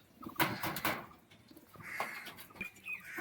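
A domestic pigeon coos softly in a loft among breeding birds, giving a few low, throaty calls over faint background clatter. No one speaks.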